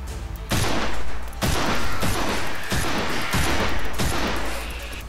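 Sniper rifle fire in the dinosaur shooter game Primal Carnage: five loud, sharp shots spaced about a second apart, each with a booming tail, over a steady low rumble.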